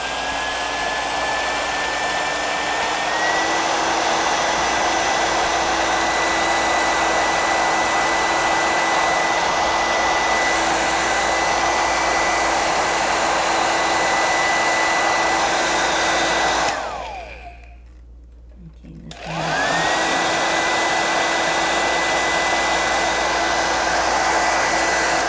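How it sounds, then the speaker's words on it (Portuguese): A hair dryer on its hot setting blows steadily onto a craft flower, a loud continuous whir that shifts pitch slightly, cuts off briefly for about two seconds near the end, then starts again. "Pega o secador, o lado quente, ó."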